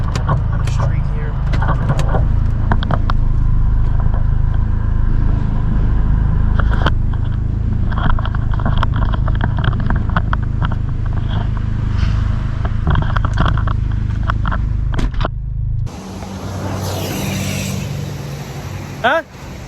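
Chevy HHR SS with a direct-injected engine and a new twin disk clutch, driving on a street with a steady low engine rumble and scattered clicks and bumps, then the tone shifts near the end as someone starts talking.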